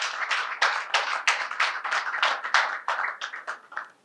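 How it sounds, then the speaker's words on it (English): A political party rally audience in Arima, Trinidad and Tobago, claps in steady rhythmic bursts, moderately loud and close, with no talking over it. "Give yourself a lusty round of applause"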